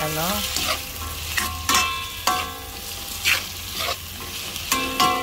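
Chopped chayote is added to a pan with sautéed tomato and sizzles as it is stirred, bursts of frying and spatula scrapes recurring about every second over a steady hum, with no talking.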